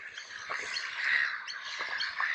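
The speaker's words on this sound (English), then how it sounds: "Oh, look at this bird. What they're making so much noise out here today." Several birds squawk and chatter loudly outdoors in a continuous, overlapping stream of harsh calls, with no talking.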